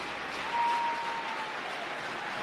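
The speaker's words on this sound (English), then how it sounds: "Crowd standing, making a lot of noise" Baseball stadium crowd at a Colorado Rockies versus Chicago Cubs game, on its feet and cheering before a pitch: a broad, steady roar of noise that swells slightly early on and then holds, heard at a distance.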